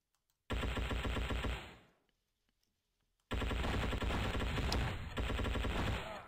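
Shotgun blasts in the first-person shooter game Endless War 3, heavy booming bursts of rapid fire, a loud volley that fades, a gap of near-silence, then a second sustained loud barrage.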